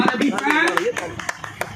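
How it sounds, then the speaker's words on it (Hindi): An audience claps at a news event in Vidisha, a brief patter of applause under someone speaking over it. "जनरल मोहर्रम कमेटी के लिए जोरदार तालियां करते हैं।"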